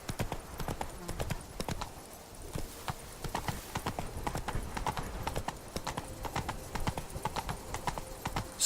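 Roach, Geralt's horse in The Witcher 3, trots along with crisp, regular hoof clops that carry clearly and steadily throughout, over faint background ambience.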